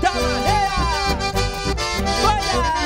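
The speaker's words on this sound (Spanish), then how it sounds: "Le ponemos chamamé para que bailen los bailarines." Chamamé dance music at a Virgen del Valle festival, loud and continuous, with a steady bouncing accompaniment and melodic lines gliding over it across the whole stretch.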